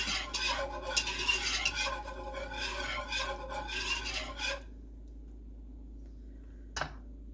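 Heavy cream is stirred in a pan for Alfredo sauce, giving a steady scraping, swishing rhythm with a utensil against the cookware for about four and a half seconds. After that it goes quiet apart from one brief knock.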